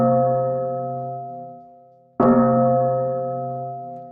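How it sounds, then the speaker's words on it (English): A single resonant bell struck twice in celebration, each strike ringing loud and clear then slowly decaying, the second hit landing just after the first fades. "Let's ring the bell for taking down the drink,"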